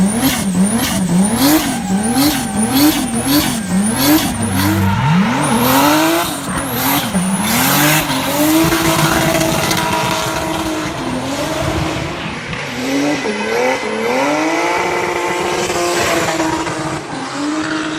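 A turbocharged competition drift car engine revs hard and climbs quickly through rapid repeated rises in pitch, then holds a loud strained roar as tires squeal, all loud and close with no talking.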